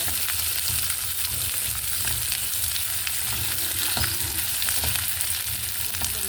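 A home cook sautés a dish in a pan, giving a constant near sizzle and crackle of hot oil with occasional stirring clicks, unbroken and without speech.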